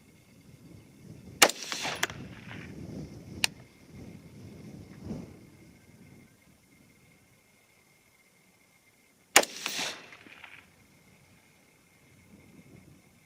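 Two sharp rifle shots, one 22-ARC or .223 Remington round each, crack out several seconds apart outdoors in light wind, each followed by a short rolling echo, with a quiet ticking lull between them.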